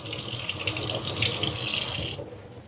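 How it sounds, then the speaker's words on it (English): Water running from a tap to rinse something off, a steady close splashing stream that stops abruptly near the end. "let me rinse this off"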